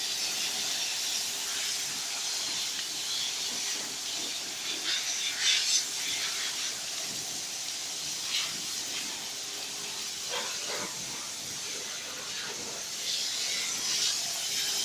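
Water sprays in a steady, close hiss, rinsing dish-soap water over a car's waxed paint coating, with faint splashes and drips rising and falling throughout.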